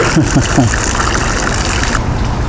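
Steady splashing and rushing of water from a dragon fountain sculpture, like a jet pouring into a basin, loud and continuous, with a brief voice near the start.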